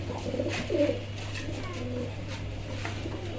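A pair of Afshan grizzle fancy pigeons coo softly at a pigeon seller's stall, their low murmurs mixed with someone talking and a steady background hum.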